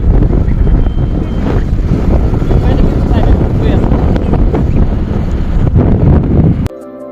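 Heavy wind roar buffets the microphone on a motorbike ride through steady rain along a road, a loud continuous rushing that cuts off abruptly near the end, leaving a quieter hiss.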